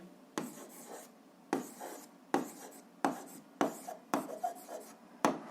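A pen writes on paper in about seven short, distinct scratchy strokes, each starting with a soft tap, close and quiet in a still room.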